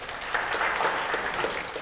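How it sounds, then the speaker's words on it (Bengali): Audience applause at a Bengali pronunciation competition, a short burst of brisk clapping from a crowd that swells slightly and holds steady, with no speech over it. "জোরে হাততালি দাও"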